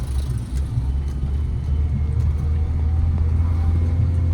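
A car engine on a highway gives a steady, loud low rumble heard from inside the car, rising slightly as the speed picks up.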